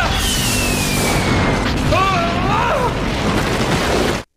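In an animated film recap, a loud explosion gives a sustained booming rumble, with whistling, swooping effect tones through the middle. The sound cuts off abruptly at the end.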